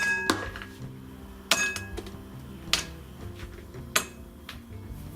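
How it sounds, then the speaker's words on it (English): Chunks of dark chocolate clatter into a microwave-safe bowl in several separate bursts, each a sharp clink followed by a brief rattle, with quiet pauses in between. "get a microwave safe bowl, chuck in about 200 grams of dark chocolate"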